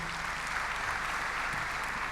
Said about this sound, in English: Big round of applause, please, for Andre Agassi.